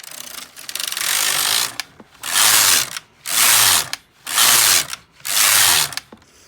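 A Brother mid-gauge knitting machine carriage, KX 350 or LK 150, is pushed back and forth across the needle bed, five loud ratcheting mechanical passes separated by brief pauses, close and with no talking.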